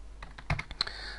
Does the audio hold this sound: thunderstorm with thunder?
no